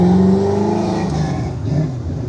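Nissan March race car with an 850 hp engine, idling and revving steadily in a staging area at a track day, a deep, loud, continuous engine note with uneven rises in pitch and no speech.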